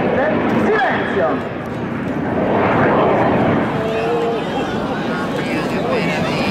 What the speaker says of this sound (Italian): Questo è uno dei pochi jet al mondo in grado di realizzare questa manovra